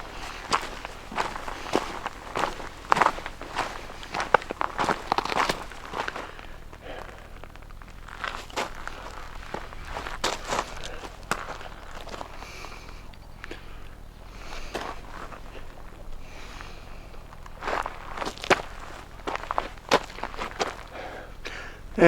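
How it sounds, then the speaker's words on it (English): Footsteps crunching along a forest spring trail near an old sawmill, a steady walking rhythm of close, distinct steps on dirt and debris, with breathing audible between them. "ignore my breathing and my footsteps"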